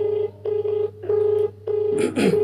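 Outgoing phone call ringback tone repeating in steady pulses with short gaps, a clean beeping tone heard clearly without speech.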